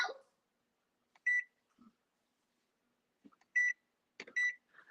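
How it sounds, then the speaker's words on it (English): Oven timer beeping as it is set in a home kitchen while baking, several short electronic beeps spaced apart, one after another, fairly close with quiet gaps and faint clatter between. "I'm setting the timer for 40 minutes."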